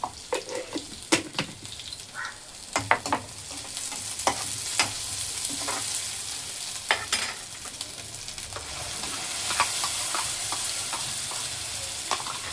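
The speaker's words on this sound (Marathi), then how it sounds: "थोडी अद्रक लसणाची पेस्ट टाकते, थोडीच टाकते" Ginger-garlic paste frying and being stirred in a pan for crab curry, a steady close sizzle with repeated sharp scrapes and clinks of the spoon against the pan, no voices.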